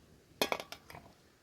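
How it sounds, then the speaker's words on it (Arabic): A cooking pot for Assyrian sour rice is moved and set down, making a few sharp metallic clinks and knocks in quick succession close by, then fading into quiet. "ناخذ الجدرية نخليها هنا يرتاح طبخ الرز"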